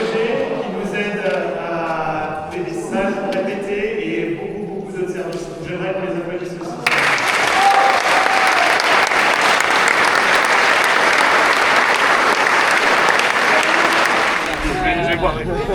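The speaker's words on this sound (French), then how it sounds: "J'aimerais qu'on les applaudisse." Audience applause for partners of a classical music festival, breaking out suddenly and loudly after a stretch of speech and continuing as a dense, steady roar of clapping.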